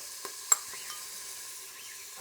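Bacon slices in oil frying on the saute setting of an Instant Pot give a soft, steady sizzle with a couple of light pops and taps near the start, faint and alone with no talking.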